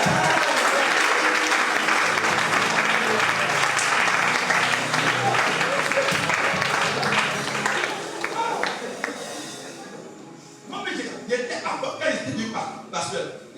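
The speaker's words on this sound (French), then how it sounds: "On va acclamer le Seigneur." A church congregation breaks into loud, sustained applause acclaiming the Lord, a dense roar of clapping that fades after about ten seconds into scattered claps, chuckles and voices.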